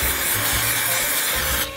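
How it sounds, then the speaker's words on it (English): Cooking spray sprayed inside a cookie cutter, a loud continuous aerosol hiss lasting about a second and a half, then cutting off abruptly. "But we're going to spray it like crazy, because we want to make sure that none of the batter sticks"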